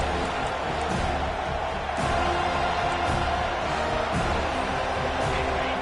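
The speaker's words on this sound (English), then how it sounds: "Decibels rising as the crowd gets behind this defense on third down." A stadium crowd at a Clemson college football game roars for the defense on third down, a sustained broad wall of cheering with a voice faintly audible underneath.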